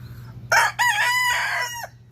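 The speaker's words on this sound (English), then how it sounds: "I love this rooster." A rooster crows loudly and close by, one full drawn-out cock-a-doodle-doo over a quiet low hum.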